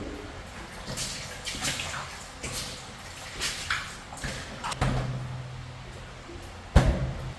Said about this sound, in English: Sounds like some pretty heavily running water up there too.